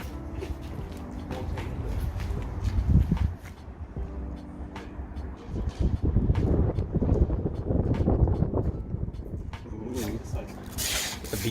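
Wind buffets a microphone outdoors while a car is decorated for Halloween, low rumbling gusts rising and falling in loudness, with a person talking intermittently underneath.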